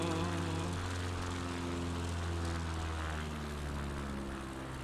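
A propeller aircraft drones steadily as its flaps lower in a flight simulator, with a low engine hum and airflow noise holding constant throughout, loud and unbroken.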